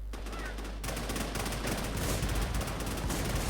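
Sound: gunfire in video game WarZ Afterlife

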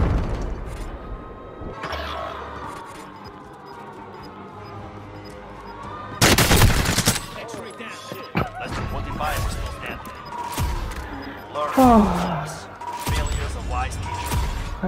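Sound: light machine gun firing in the video game Call of Duty Warzone

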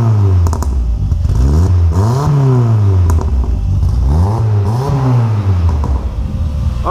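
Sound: turbo car engine revving with exhaust pops

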